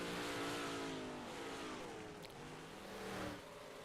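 Big block modified race car circling a track at Lanier Rd, its engine droning loud and steady with harmonic whine throughout, swelling slightly near the end as it rolls past.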